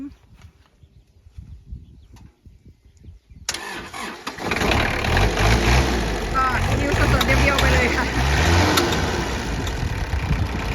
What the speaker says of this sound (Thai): เครื่องเงียบนะคะแบบเหมือนคูโบต้าเลยค่ะ